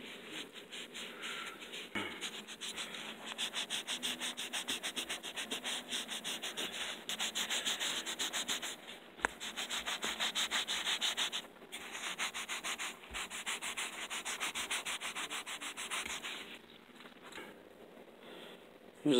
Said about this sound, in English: The polishing compound and the tool that I'm using to polish these frets is truly a winner.